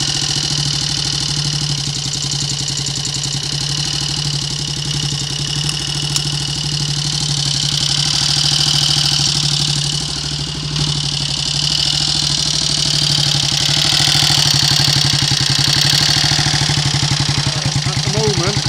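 A Triumph Sports Cub motorcycle engine, newly fitted with 12-volt electrics, idles steadily up close in a loud, even mechanical drone, with someone speaking over it.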